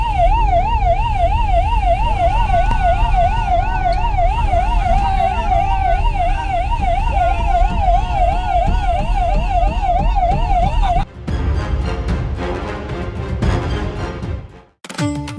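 Forest department siren sounded at night to drive wild elephants back into the forest: a loud, steady wailing siren cycles continuously for about eleven seconds, then cuts off into rumbling vehicle and crowd-like noise.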